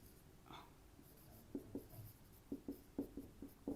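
Chalk or marker writing on a board during an accountancy lecture, with quiet, rhythmic taps and strokes that come in short clustered bursts.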